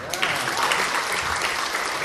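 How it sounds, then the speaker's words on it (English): A school assembly audience claps, a dense steady wash of applause from many hands filling the hall, with some voices mixed in. "So give them a round of applause."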